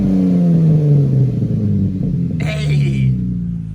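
A Chrysler 300S V6 with the mufflers deleted idles with a loud, deep rumble and then revs up once partway through. A person talks over the engine noise.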